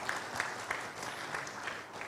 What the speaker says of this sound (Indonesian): Tepuk tangan sekali lagi untuk PUPR